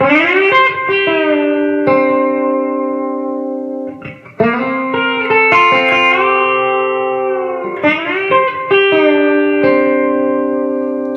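Twangy B-bender electric guitar phrases played in three picked bursts, each settling into ringing chords that bend and sustain before the next phrase starts.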